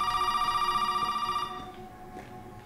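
Telephone rings out in Resident Evil 7, a steady repeating electronic bell at moderate loudness that cuts off about halfway, leaving a dim, quiet room tone.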